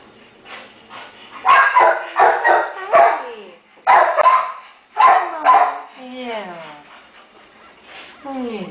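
A terrier mother with day-old puppies barks in short, loud bursts, several sharp yips clustered together with pauses, then softer whimpering whines, close to the listener.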